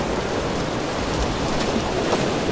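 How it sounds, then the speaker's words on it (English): Rain and thunder in BioShock Infinite: a loud, dense, continuous hiss of heavy rainfall fills the scene, with low rumbles beneath it and no voices. "This is really loud and rainy."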